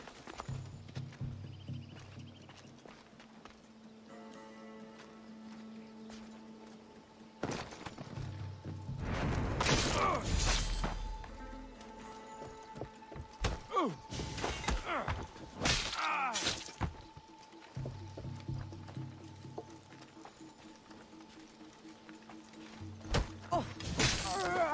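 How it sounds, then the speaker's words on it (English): In Assassin's Creed Odyssey, a horse's hooves clatter and it goes down with heavy thuds and a crash midway, close and loud over a steady low game ambience, with a brief voice. "Oh, our horse fell."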